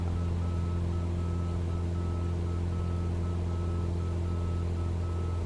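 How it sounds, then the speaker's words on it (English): A faint, steady series of repeated warning beeps pulses over a loud, constant engine drone, as if from inside a small Cessna aircraft during a flight, with no other sounds breaking through. "I can hear a warning sound."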